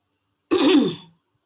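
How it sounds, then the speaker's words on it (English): A single harsh throat-clearing cough, close and fairly loud, lasting about half a second before fading into silence. "I've got a frog in my throat and I'm going to cough"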